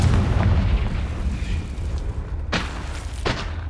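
Confringo blasting-spell explosions in the Hogwarts Legacy video game: a heavy rumbling boom decays at first, then two sharp bursts crack out about a second apart, loud and close, with no talk.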